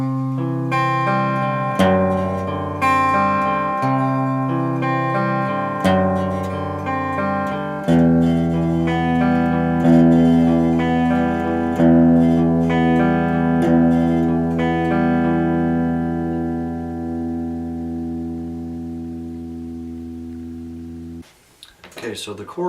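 A guitar slowly plays a verse riff, moving through sustained ringing notes and chords with a bright, slightly effected tone, the last chord decaying before a brief clatter at the end.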